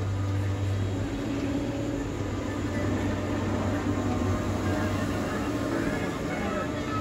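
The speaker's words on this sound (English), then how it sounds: "An empty train." An empty Vekoma Dragonfly roller coaster train, new for 2019 at Dollywood, runs its circuit as a steady, continuous rumble with a low hum, fairly close and uninterrupted.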